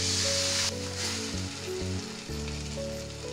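Ginger garlic paste sizzles hard in hot oil in a biryani pot, a loud continuous crackle that dips slightly as it is stirred, with steady humming tones running underneath.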